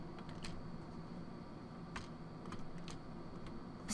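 Keyboard keys are tapped in scattered, quiet clicks during a Happy Wheels game, with several sharper presses standing out over a soft background hum.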